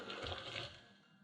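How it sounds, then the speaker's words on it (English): Water pours into a blender while making vegan scalloped potato sauce, a short splashing gush that fades out after about a second. "Then we're going to add the rest of the water."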